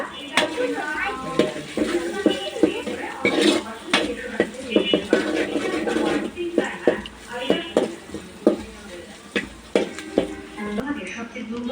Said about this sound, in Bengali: ডিমটাকে আমি এখন ভালো করে ভেজে নেব।